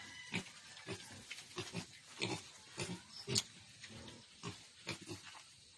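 Piglets in a pen in Tanay, Rizal, grunting and squealing in short bursts that overlap irregularly, fairly close, with no talking.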